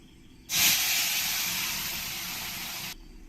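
Momo chutney paste hits a little hot oil in a kadai with a sudden loud hiss that swells at once, then slowly fades over a few seconds before stopping abruptly, no voices.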